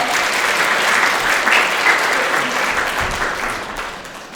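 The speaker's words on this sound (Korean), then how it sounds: "큰 박수 한번 보내주시기 바랍니다" An audience at a panel talk concert on Ulsan's high school credit system policy gives loud, sustained applause with no speech, thinning slightly toward the end.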